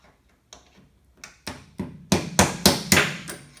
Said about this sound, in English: I am going to pop that bottom bearing out of there